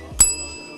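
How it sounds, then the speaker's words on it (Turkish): A restaurant bell rung to signal that kebab is ready, one sharp bright ring with a lingering metallic tone, then a faint second touch at the end. "Şu anda o zil niye çalmıyor?"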